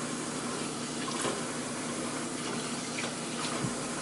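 Lukewarm water runs steadily from a kitchen tap for bread dough, a constant close hiss and splash with a few small clinks, and no one speaking.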